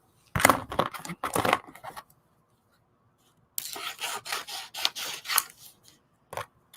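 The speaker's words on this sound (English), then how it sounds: "let me get my big scissors" Crisp snipping and rustling of scissors cutting through paper in a few close bursts, with a pause between cuts and one final short snip.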